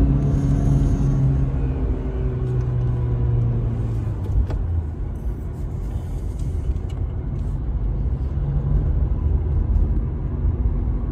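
A BMW E87 with a vibration and power-loss fault, ASC/DTC warning light on, accelerates while driving, its engine rumbling steadily under road and cabin noise with a few rising revving swells throughout.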